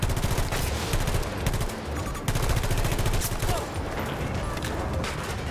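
VHX-D3 weapon fire in Battlefield 2042: loud, rapid automatic bursts that run almost nonstop, with a brief break before the firing resumes, while a voice talks underneath.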